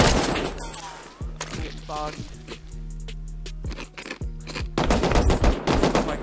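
Automatic AK rifle gunfire in the survival game Rust, rapid bursts of shots repeating loud and close over about six seconds while a player talks excitedly across them.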